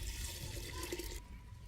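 Water, about three to five litres, poured into a clay pot holding roughly half a kilo of lime: a steady rushing pour for just over a second, then a quieter trickle.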